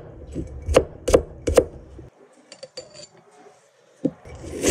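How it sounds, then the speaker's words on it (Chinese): A knife chops through garlic cloves on a cutting board, sliced thin for a stir-fry of pork belly and eggs: three sharp, close knocks in quick succession, a quiet pause with faint rustling, then two more chops. "切成薄片"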